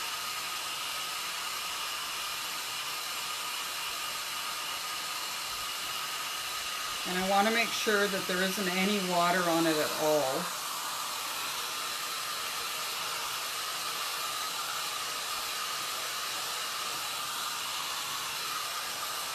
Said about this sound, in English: So I'm just using the cool setting on the dryer.